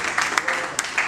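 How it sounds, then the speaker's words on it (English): Audience clapping at an entrepreneurs' gathering, a short burst of scattered hand claps from a modest crowd, close and moderately loud, lasting about a second. "clap for us now"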